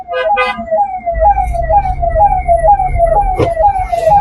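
An ambulance siren wails continuously in a repeating descending pattern, loud and close, with low traffic rumble underneath, in Bhiwandi, India.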